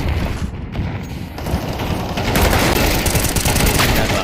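Rapid pistol gunfire in a Counter-Strike match, loud close bursts of shots over a dense, roaring game mix, continuous and aggressive without speech.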